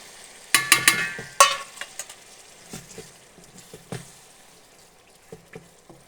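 Chopped tomatoes and green chillies drop into frying masala in a pan for lahori chana, giving a burst of clatter and sizzle, then scattered stirring scrapes and soft pops nearby.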